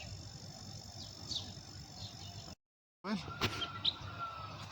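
A bulbul being trapped outdoors gives faint, scattered chirps and short tweets over a quiet background hiss, the sound cutting out briefly before more sharp calls nearby.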